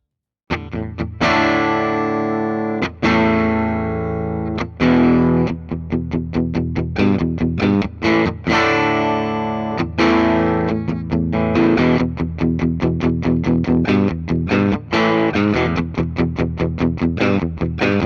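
A 1960 Gibson double-cutaway 3/4-size electric guitar played through an amplifier's clean channel, loud and close, with sustained ringing chords giving way to quick, rhythmic picked notes and strums.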